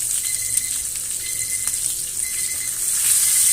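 A butter-basted rib-eye steak sizzles in a cast iron pan: a steady, bright hiss with crackling pops throughout, close and continuous, swelling slightly louder near the end.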